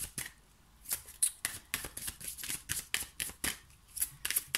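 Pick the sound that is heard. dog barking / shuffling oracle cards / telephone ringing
shuffling oracle cards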